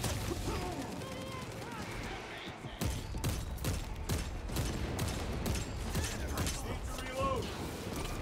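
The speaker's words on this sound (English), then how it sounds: "Small arms fire. It sounds close." Small arms gunfire in the Warhammer 40k: Space Marine II video game crackles in dense, rapid bursts of close shots over a busy mechanical battle din, with voices speaking throughout.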